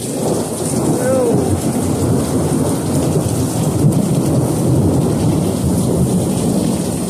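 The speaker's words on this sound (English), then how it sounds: "this lightning is getting crazy" Heavy rain pours steadily during a big thunderstorm, with a deep rolling rumble of thunder beneath the loud, continuous hiss of the downpour.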